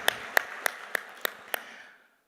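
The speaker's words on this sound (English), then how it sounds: "Let's give a big round of applause for all the leadership out here" A conference audience at a real estate awards event gives a brief round of applause, heard as six crisp claps at an even pace that fade out, quiet and sparse with no voices.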